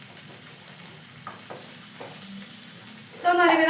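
Soft sizzling of spice powder roasting in a pan for prawn roast, with a few light scraping stirs, growing louder and brighter near the end.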